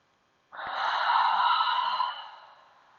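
One deep, slow breath is drawn in and released during a guided breathing exercise, a close, airy rush that swells and then fades, with no talking.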